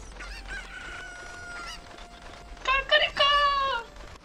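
Chickens crow and cluck in The Legend of Zelda: Ocarina of Time, first drawn-out crowing calls, then a louder, denser burst of close crowing and clucking, with some talk mixed in.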